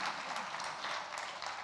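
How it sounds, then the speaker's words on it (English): Wedding guests give a round of applause during the reception speeches, a brief, fairly faint, even patter of many hands clapping, heard alone. "let's give a big round of applause, even though we just did"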